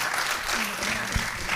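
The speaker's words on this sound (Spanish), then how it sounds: "Un aplauso a los panelistas que han realmente hecho un trabajo extraordinario." Audience clapping for panelists at the close of a discussion forum, a full even round of applause sustained across the moment, with a brief voice or tone surfacing faintly beneath the clapping.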